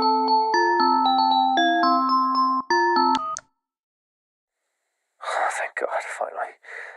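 A phone ringtone plays a bright, repeating melodic pattern for about three seconds and then cuts off, followed by silence and then close whispered speech.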